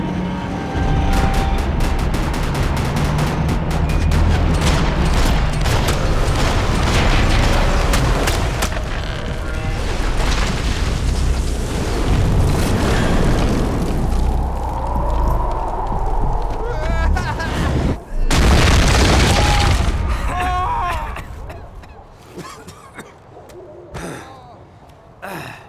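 Gunfire and explosions from the action game Max Payne 3, a dense, loud barrage of shots and booms running nearly continuously, with shouted voices mixed in before the din thins out toward the end.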